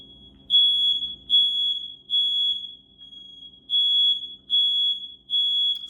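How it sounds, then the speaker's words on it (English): A home smoke alarm sounds a shrill, steady high-pitched beep, repeating seven times in even pulses with short gaps, loud and alone with no talking. "So that's my fire alarm."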